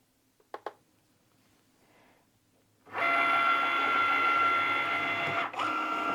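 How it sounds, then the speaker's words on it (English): A Cricut cutting machine kicks on after a couple of faint clicks and whirs steadily as it cuts an infusible ink sheet for coasters. The hum is loud and close and runs with a brief dip. "I hit the Cricut, it's pulling it in and it's going to do all the cutting now"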